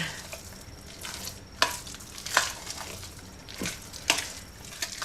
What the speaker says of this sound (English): Now I'm just going to mix that in.